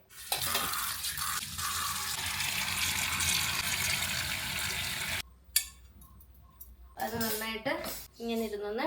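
Cooked pasta drained from an Agaro multi cook kettle pot, a loud continuous rush and splash of water for several seconds, then clinks of the pot followed by a person talking.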